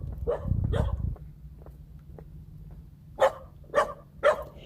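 Dogs bark nearby, a few scattered yips early on, then three loud, evenly spaced barks close together near the end.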